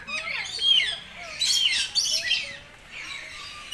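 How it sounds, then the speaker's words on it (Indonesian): Several birds chirp and tweet at a safari park, short bright calls repeating in quick clusters with brief gaps, fairly close and clear over quiet background. "Tuh ada burung tuh."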